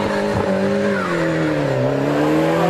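A Ford Escort rally car with a 1600 Crossflow engine revs hard and pulls away at a hillclimb, its pitch rising and dipping through gear changes, loud and close.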